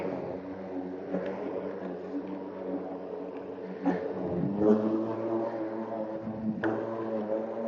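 A battery-powered lawn mower motor whirs steadily at low speed, then surges up in RPM in several distinct bursts, close and fairly loud.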